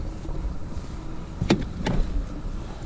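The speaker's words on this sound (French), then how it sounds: "le rétroviseur se déplie" A Renault Captur side mirror unfolding on its own as the owner approaches with the key, two short whirring motor pulses close by over faint outdoor background.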